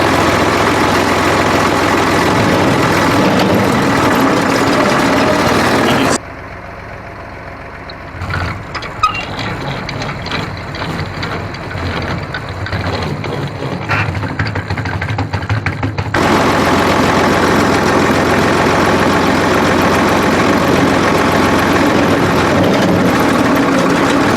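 A tractor engine runs steadily with the PTO engaged at a very slow pace, a continuous low rumble with a quieter, rougher middle stretch before the full drone returns.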